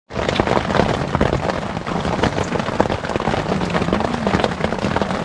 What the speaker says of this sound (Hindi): वो अभी सुन सकते हो आप लोग कितना जोर से बारिश हो रही है।